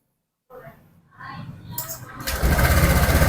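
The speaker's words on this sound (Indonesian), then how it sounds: "saya akan nyalakan motornya" A Honda Vario 150 scooter engine cranks and catches, then settles into a steady, close idle that grows louder and fills the last second alone, with no talk over it.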